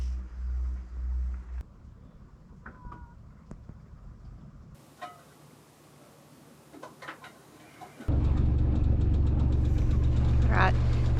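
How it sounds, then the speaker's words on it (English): A sailboat's engine running at anchor in San Evaristo in strong wind, first faint and intermittent with a few quiet knocks and chirps, then a loud steady close mechanical drone taking over near the end. "But we've got the engine on and we're going to move anchorages"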